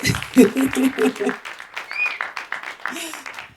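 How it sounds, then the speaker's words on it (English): A film festival audience claps for a guest at the start of an interview, a short burst of applause mixed with voices speaking. "give him a round of applause"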